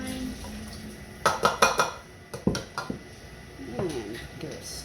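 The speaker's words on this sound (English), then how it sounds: "And give it a stir." A spoon stirs French onion soup with red wine in a pot, clinking against the metal in a quick cluster of several sharp knocks, then a few softer scrapes over a low kitchen background.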